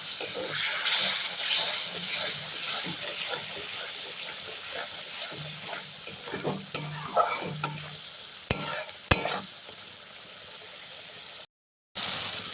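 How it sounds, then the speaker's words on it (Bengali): Spice paste (masala) frying with a little water in a pan for an elephant-foot yam and prawn dish, a steady sizzle broken by repeated scraping stir strokes and occasional sharp utensil clinks near the end, close and fairly loud. "একটু অল্প জল দিয়ে দিচ্ছি, দিয়ে মশলাটা আবার কষিয়ে নিই।"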